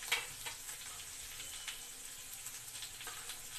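Potatoes frying in a pan with turmeric, salt and red chili, a soft, continuous sizzle with a few faint scrapes, fairly quiet and with no talking.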